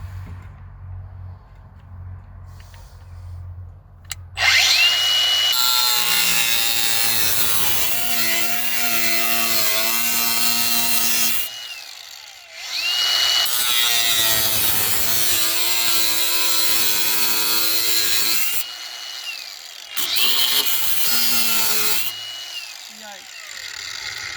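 A power saw cuts into the door panel of a Chevy G20 van to reach a bolt, loud rasping cutting in three long runs separated by brief pauses.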